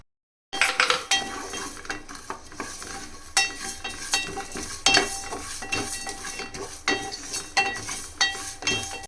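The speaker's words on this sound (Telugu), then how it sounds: "సో ఈ మసాలాలన్నింటినీ లైట్గా మీడియం ఫ్లేమ్లో దూరగా వేయించుకుందాం" Masala spices fry on a medium flame while being stirred in a pan, with scraping and clinking of a utensil against metal in irregular bursts over a faint sizzle, close and with no talking.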